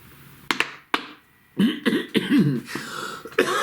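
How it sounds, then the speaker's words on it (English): A few sharp wet coughs and throat-clearing bursts, close and fairly loud, with short pauses between them. "I get the coughing."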